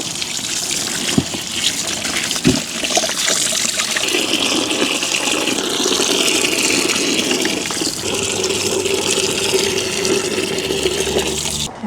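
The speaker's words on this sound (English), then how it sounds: "Give these roots a good wash off." Steady running water trickles and splashes as vegetable roots are rinsed off after a chilli harvest, a continuous close wash with a few louder knocks and splashes and no talk over it.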